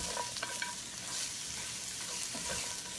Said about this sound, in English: So I'm going to saute the carrots